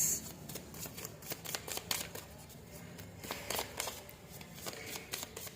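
Close, crisp shuffling of a tarot deck, with quick repeated riffles and slaps of cards in rapid bursts over a few seconds, alone with no voice.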